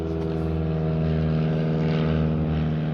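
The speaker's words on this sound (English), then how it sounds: "Let that little airplane fly overhead." A small propeller airplane drones overhead, a steady loud hum with strong engine harmonics holding even throughout, close and alone without talk.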